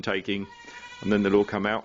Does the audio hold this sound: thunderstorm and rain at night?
no